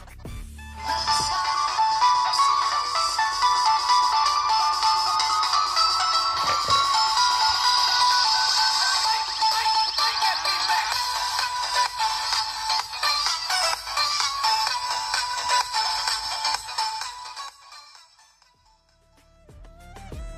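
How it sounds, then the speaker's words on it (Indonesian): A ringtone melody plays through the loudspeaker of a counterfeit Redmi 12 smartphone, a bright, thin-sounding tune running continuously for about seventeen seconds before fading out. "sekarang kita cek untuk speakernya bagaimana, apakah suaranya menggelegar atau biasa aja"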